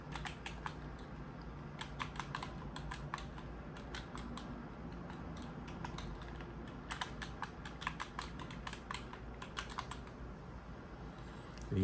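Keys clatter on a computer keyboard as a password is typed during a Proxmox install on a Mac Mini A1347, bursts of quick close clicks separated by short pauses, with no talking.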